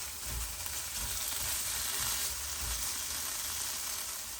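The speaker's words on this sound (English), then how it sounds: "when you're cooking your curry base off, which is this, you could also add in your tomato at this stage as well." A curry masala base for Fiji-style egg and potato curry cooks in a pan, giving a steady, dense sizzle and frying hiss throughout with faint stirring, close and continuous without talk.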